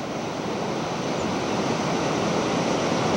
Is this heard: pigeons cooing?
no